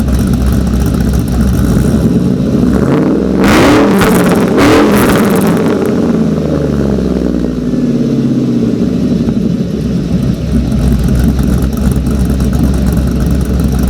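Supercharged 6.0L LQ9 V8 in a Silverado truck with a high-lift cam, revving hard with a loud, lopey, choppy idle between blips, close and continuous with no talk.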